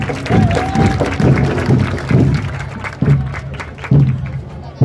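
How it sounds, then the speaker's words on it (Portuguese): Audience clapping and cheering welcomes a marching band at an Afro-descendant culture festival in Custódia, Pernambuco, Brazil; claps and shouts come in surges, with a loudspeaker voice and low booming tones breaking in at intervals. "Vamos receber calorosamente com uma salva de palmas."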